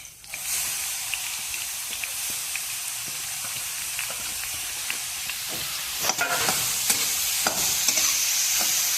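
Grated carrots sizzle in a hot pan for a carrot custard dessert, a steady frying hiss with stirring scrapes and taps growing busier in the second half.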